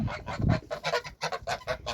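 Several geese honk in quick, uneven bursts, fairly close, with brief gaps between calls and no talking.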